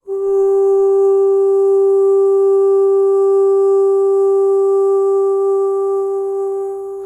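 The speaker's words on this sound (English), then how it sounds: "Now here's a vocal with almost no vibrato." A single sustained sung note held perfectly steady with hardly any wavering, clear and loud, fading slightly at the end.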